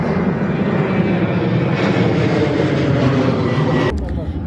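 A loud, continuous roar of an airplane passing low overhead, filling the whole scene before easing slightly at the end.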